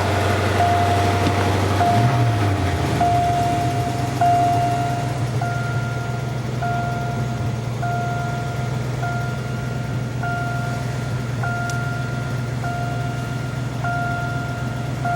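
A 1980 Lincoln's engine idles after the idle is turned down, a loud steady low rumble that settles slightly early on, with a faint recurring higher tone above it and no talking.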